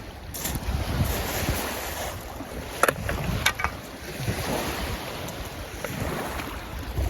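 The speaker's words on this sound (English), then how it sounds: "The wind's picked up since I first got here. The waves picked up." Waves surge and wash against a Lake Michigan beach while strong wind buffets the microphone, making a constant rough roar with a few sharper splashes.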